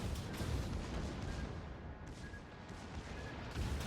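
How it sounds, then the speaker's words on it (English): Cruiser gunfire in the naval battle game World of Warships, a continuous dull rumbling barrage of distant booms with no distinct individual shots, and no talking. "Oh, this cruiser is probably firing."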